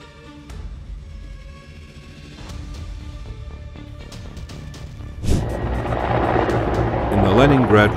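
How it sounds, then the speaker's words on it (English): A Russian Guard Mi-8 helicopter in the Leningrad region near Gatchina, involved in a hard landing, drones steadily with its rotor and turbine roar, growing louder and rougher toward the end while voices talk over it. "an Mi-8 helicopter belonging to the Russian Guard made a hard landing"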